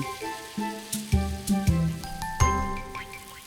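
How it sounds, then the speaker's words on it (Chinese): Garlic, ginger and meat slices are stir-fried in a wok for a Sichuan tofu dish. A spatula scrapes and clanks against the metal with ringing, jingling hits over a close sizzle, in an irregular rhythm, with no speech. "蒜末、姜末、豆丝炒香出色， 再下肉片炒到断生。"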